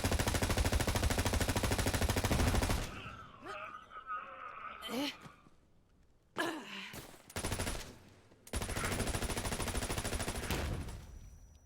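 Sustained rapid rifle fire from a legendary rifle in the shooter game Borderlands 3, loud and dense, in two long bursts with a quieter stretch between where a voice and short effects come through.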